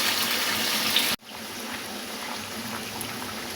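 Tomatoes cook in a karahi pan with a loud hissing sizzle that cuts off abruptly, then continues as a softer, steady sizzle.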